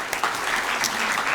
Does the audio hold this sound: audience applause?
yes